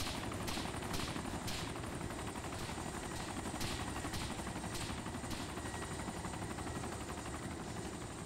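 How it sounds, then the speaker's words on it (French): Steady rotor drone of a Little Bird helicopter in Arma 2 DayZ mod fills the clip, with sharp bursts of gunfire cracking at intervals over the continuous roar. "Enfin, avec son hélicoptère, son Little Bird,"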